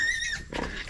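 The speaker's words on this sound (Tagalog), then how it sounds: "Yung inahing baboy ni Mas Caramel mga idol, ng anak" A sow grunts once, a short rough close call under a faint steady high tone.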